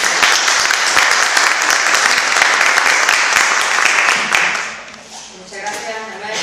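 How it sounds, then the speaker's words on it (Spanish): Conference audience at a university event on Spanish republicanism applauds a vice-rector, loud and close for about four seconds before fading out, with a speaker's voice picking up at the end. "y yo creo que se merece pues,"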